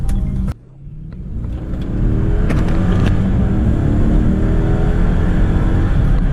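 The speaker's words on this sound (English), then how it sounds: "We're going to do a couple of pulls and let you hear how loud it is in the car." A car with a custom exhaust accelerates, heard from inside the cabin: after a brief shift dip, a loud, steady engine drone with rising whine and low rumble, no talk.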